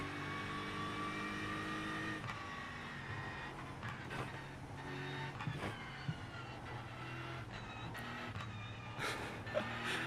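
A Porsche GT3 race car engine at Bathurst in the iRacing sim holds a steady high whine, then drops with gear changes and bursts of revving, loud and continuous over a faint background hum with occasional sharp clicks.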